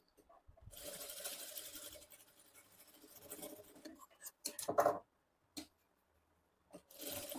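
A sewing machine runs in a steady stitching burst while a work blouse is being sewn, then stops; a few short fabric and handling noises follow before it starts up again at the end.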